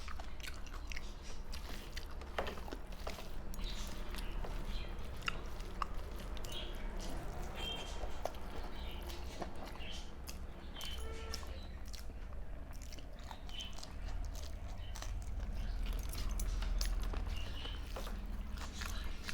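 Someone eats rice with half-boiled dal mixed with onion and green chilli, plus dry fried foods, chewing and biting close to the microphone with soft crunches and wet smacks in a quiet room.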